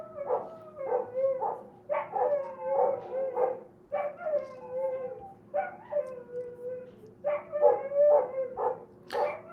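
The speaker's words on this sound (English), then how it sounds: "Yeah, so you can hear the dog." A dog barks and yips in repeated bursts of short, tonal, almost howling calls, fairly close and alone, pausing briefly between clusters.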